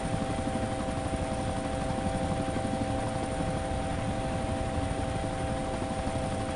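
A helicopter in the video game DayZ drones loudly and steadily throughout, with a dense rotor and engine roar and a constant mechanical hum, heard from inside the cabin with no talk.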